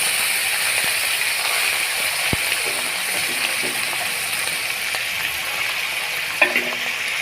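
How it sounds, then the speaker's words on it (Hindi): Minced keema fries with onions over a low flame, giving a steady hissing sizzle with faint scrapes and a sharp tap now and then, close by and with no talking. "और कीमे को आपने अच्छे तरीके से फ्राई करना है।"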